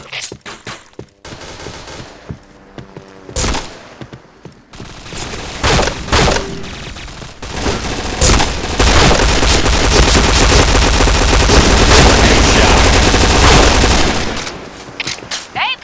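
Rapid bursts of P90 submachine gun fire in a headshot-mode shooting video game, sporadic shots early then sustained loud automatic volleys dominating the second half.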